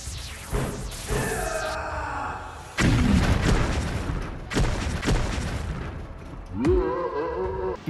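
Final attack in an Indonesian Ultraman mobile game, a rapid series of loud booming blasts and explosions with whooshing sweeps and rising electronic tones, dense and continuous with brief gaps between bursts.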